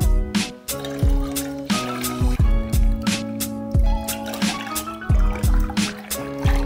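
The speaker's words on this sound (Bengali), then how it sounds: "এই কাপের মাপ করে আমি জল দিয়ে দিচ্ছি।" Water poured by the cupful into a pot on a stove while making mesta fruit jelly, with splashing and trickling in repeated pours and a clunk of the cup between them, close by.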